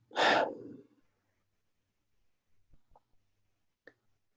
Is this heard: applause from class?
no